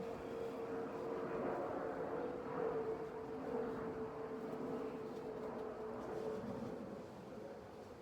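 A distant airplane drones steadily overhead, a low continuous rumble that fades slightly toward the end.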